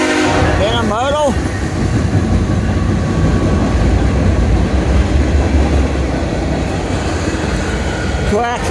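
Intermodal freight train rolling past a trackside spot, a loud continuous rumble and wheel roar filling the whole stretch, with short horn-like tonal bursts near the start and end.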